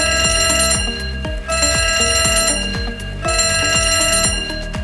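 A loud, continuous electronic fire alarm rings with a repeating pulsing pattern, steady and insistent from start to finish.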